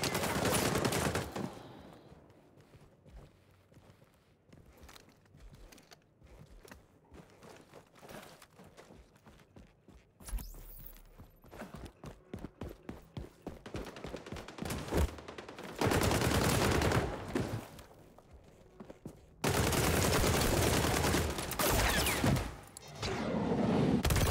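Gunfire rattles through a match of the video game Arena Breakout Infinite: scattered shots and rapid automatic bursts with footsteps between them, building to long, loud sustained volleys.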